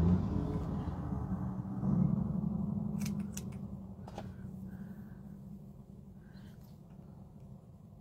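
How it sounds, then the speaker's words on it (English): Fabric scissors snip through old catalog paper with a few sharp crisp cuts over a low steady rumble, close by, without talking. "These are not the best fabric scissors."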